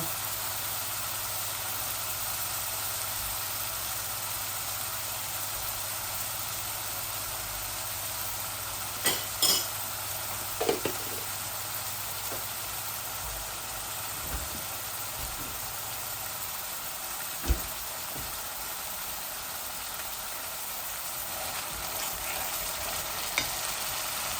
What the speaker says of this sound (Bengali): যে পেঁয়াজটা আদা রসুনটা ভাজা